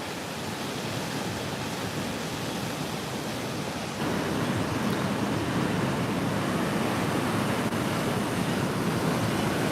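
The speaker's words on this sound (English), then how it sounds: "I'm just watching the waves crash in on the rocks." Ocean waves crash steadily onto rocks at San Bartolo beach in Lima, Peru, making a continuous loud roar of surf with no voices.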